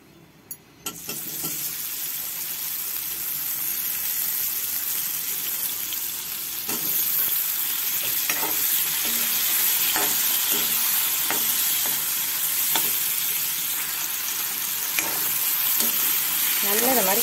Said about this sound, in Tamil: இப்போ எண்ணெய் சுட்டுடுச்சு, நம்ம வந்து கத்திரிக்காய் இதில் வந்து ஆட் பண்ணுவோம்.